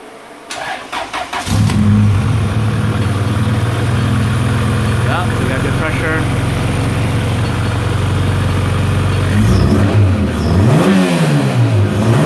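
A car engine fitted with a new fuel pump, surge swirl tank and pressure regulator cranks and fires up, then settles into a loud steady run before revving up and down near the end, with brief talk over it.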